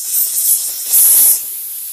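Garlic paste frying in a pan for Punjabi chole masala, a bright airy sizzle that swells in two bursts, loudest near the middle, with no voices.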